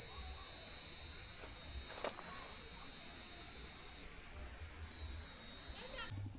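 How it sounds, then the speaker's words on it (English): Loud, continuous high-pitched chirping of many crickets in a dense Kenyan forest fills the air, dipping briefly in volume before resuming, with faint rustling underneath. "A lot of crickets."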